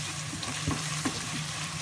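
Masala of coriander, cumin and turmeric frying in a pan, a continuous close sizzle with a couple of soft stirring knocks, no voices.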